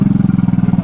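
A fishing boat's engine, aboard a basnig net-fishing boat, runs close and loud with a steady, fast, throbbing pulse of even beats, with no talk over it.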